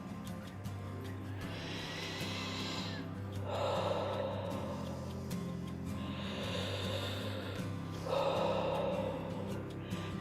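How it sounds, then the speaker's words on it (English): Deep rhythmic breaths from a Wim Hof breathing exercise, with several long, forceful inhales and exhales repeating in slow cycles, close and clear over a low steady background hum. "Count each breath."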